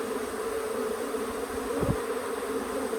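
Honey bees buzz in a continuous droning hum close to the hive, steady and moderately loud, with one brief low thump partway through.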